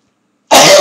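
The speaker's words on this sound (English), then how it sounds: "I'm coughing my head off." A single sharp cough bursts out suddenly after a moment of silence, loud and close to the microphone.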